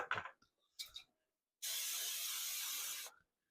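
Olive oil cooking spray hissing from a can in a home kitchen where eggs are being cooked, one steady close spray lasting about a second and a half, following a couple of brief handling noises.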